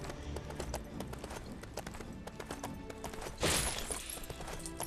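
Horse hooves clip-clop in a rhythmic galloping pattern in Lego Lord of the Rings on PS3, steady and fairly close, with a brief crash-like burst midway over game music.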